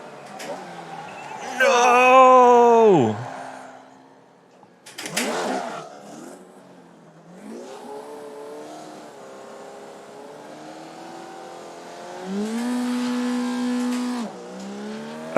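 A Formula Vee race car engine in the iRacing sim revs up and drops back repeatedly, its buzzing note rising and falling through gear changes, fairly close and prominent with brief sharper bursts between.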